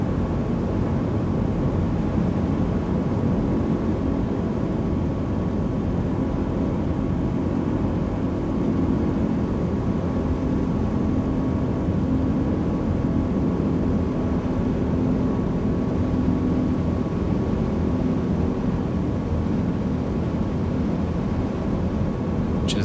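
Steady, droning aircraft engine in Microsoft Flight Simulator 2020 during a landing approach, with the gear lowered and flaps going down. It holds loud and continuous throughout, with no talk over it.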